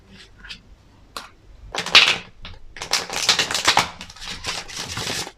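Crisp papery riffling and flicking of cards, a few short snaps followed by a longer rapid burst of shuffling, close by.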